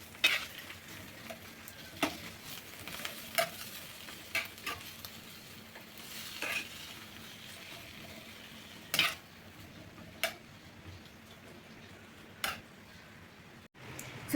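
A spoon or spatula scrapes and taps at a quiet, even pace through eggs frying with cabbage in a pan, a soft sizzle running steadily underneath the scattered sharp knocks.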